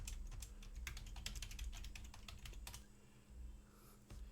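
Quick, fairly quiet typing on a computer keyboard during a session at a computer, with a dense run of key clicks for about three seconds, then a few scattered taps over a low steady hum.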